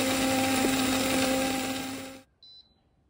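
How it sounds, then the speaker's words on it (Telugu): A soy milk maker's motor whirs loudly, winds down and stops, then a single short electronic beep sounds in the quiet to signal the soy milk is done. "సో ఇట్లా బీప్స్ వచ్చేసినాయి అనమాట."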